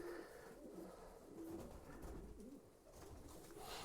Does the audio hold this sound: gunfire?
no